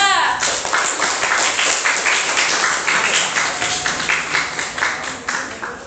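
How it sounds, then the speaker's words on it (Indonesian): A class gives a group of students a round of applause after their presentation, producing dense, rhythmic clapping from many hands in a room that continues steadily throughout. "Tepuk tangan untuk kelompok 3."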